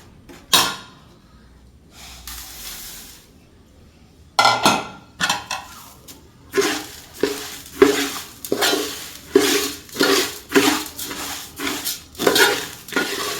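Beaten rice (aval) being stirred in a pan, a steady series of close scraping strokes in a regular rhythm after a few scattered knocks, with no voices.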